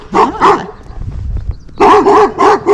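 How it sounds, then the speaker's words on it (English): A guard dog on a farm with alpacas barks loudly nearby, two quick barks, a short pause with faint rustling, then a rapid run of four more barks. "Now the barking dog will be behind us."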